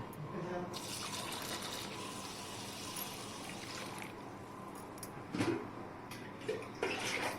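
Water pours steadily into a bowl of washed mixed lentils for overnight soaking, a continuous close gushing with a few splashy bursts near the end.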